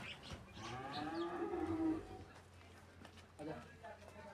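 Cattle at a farm in Punjab where animals are shown for sale, including a newborn calf; a cow or calf gives one drawn-out, fairly close moo, with background farm noise and a little voice activity afterward.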